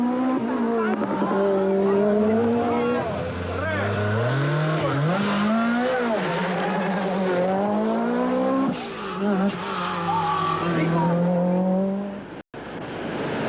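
Rally cars race on a 1986 Sanremo Rally stage, a Lancia chasing hard, with engines revving and changing pitch loudly over several passes and a brief dropout near the end.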